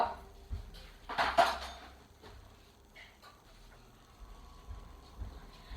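A metal baking tray of cinnamon swirl cookies clatters and scrapes as it is handled, with a brief cluster of clanks early on, then softer knocks and rustling.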